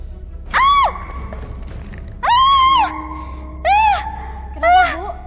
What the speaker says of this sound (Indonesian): Itu kamu lihat deh ada kucing.